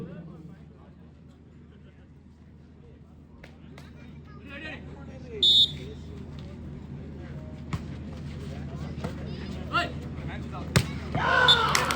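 A volleyball is struck during a Tamil Nadu police versus SKP Boys match in Savakattupalayam. Sharp thuds and slaps rise above the murmur of the crowd, and commentary runs beneath them.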